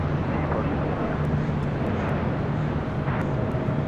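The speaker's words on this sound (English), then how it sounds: "China Southern Cargo flight 2538 heading to Guangzhou with a 777 freighter" Boeing 777 freighter jet at LAX, a steady broadband roar with a low hum that continues unbroken throughout, moderately loud and fairly distant, with no talk over it.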